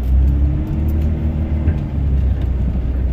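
Dodge Ram pickup with a Cummins diesel engine idling steadily from inside the cab on a cold day with light snow, a low continuous rumble and drone with no talking.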